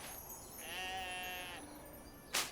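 Sheep bleating on a hillside pasture where the flock is taken to graze, a single wavering cry of about a second, fairly close, followed by a brief sharp knock.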